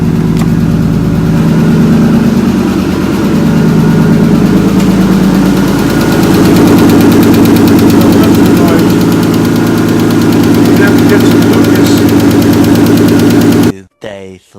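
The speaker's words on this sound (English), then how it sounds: "But she's got a lifter noise." A Nissan 240SX engine with a lifter tick runs loud and close, a steady rumbling idle with a fine repetitive ticking woven through it, then cuts off abruptly near the end.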